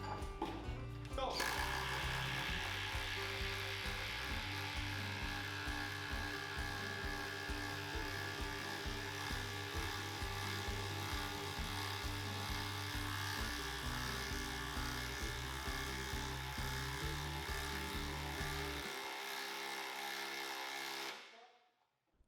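A DeWalt cordless drill running continuously in a speed test, a steady whirring motor with a pulsing low drone as it drives through, alone for about twenty seconds before cutting off abruptly.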